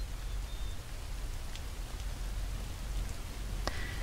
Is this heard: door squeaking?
no